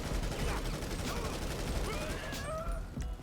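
Sustained M16 rifle fire in GTA Online, steady dense crackle of shots filling the whole stretch with faint voice fragments underneath.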